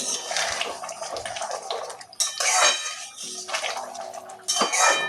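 A spoon scrapes and knocks steadily around a pot of red lentil dal with whole okra, a dense, close, continuous stirring with brief lulls, no voices.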